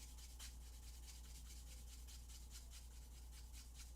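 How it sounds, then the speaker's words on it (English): Steady scratchy rubbing of fine sanding on a plastic Gundam model part, with repeated short back-and-forth strokes at close range, fairly quiet and continuous. "So I'm sanding this one a little more than I normally would"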